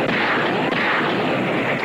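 A single gunshot or heavy weapon blast in a 1980s crime drama scene, a loud, dense burst of broadband noise that fills the whole moment with no speech around it.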